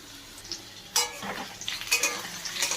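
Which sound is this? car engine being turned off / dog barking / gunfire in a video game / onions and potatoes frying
onions and potatoes frying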